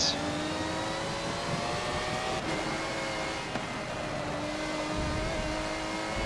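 Aston Martin race car engine holding a steady drone through corners in Forza Motorsport 7 at Prague, an endurance race run close behind a Corvette, with a continuous loud hum and no sharp revving.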